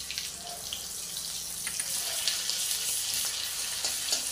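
Garlic and ginger paste hitting hot oil with bloomed cumin seeds in a pan, a steady, close hiss and sizzle that runs unbroken without pause.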